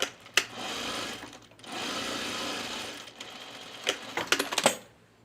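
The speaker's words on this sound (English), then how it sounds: "Sew up to this back seam here" A home sewing machine stitches a seam on a Sintra halter top in two steady bursts of rapid mechanical whirring, a short pause between them, followed by a few quick stop-start clatters.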